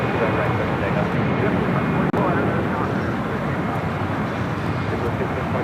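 A jet airliner taking off at LAX, heard as a loud, steady broadband engine roar that holds constant throughout, with a faint voice from the radio at times beneath it.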